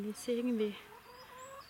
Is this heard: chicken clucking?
yes